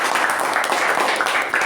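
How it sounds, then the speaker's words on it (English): Applause from a meeting audience, a steady close wash of many hands clapping at an even level without pause. "Let's give him a round of applause"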